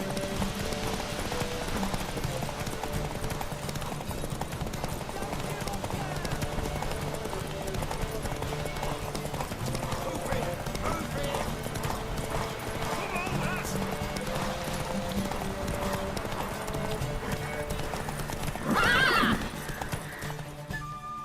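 A horse in The Witcher 3 gallops with rhythmic clip-clop hoofbeats and lets out a loud whinny near the end, under continuous spoken dialogue.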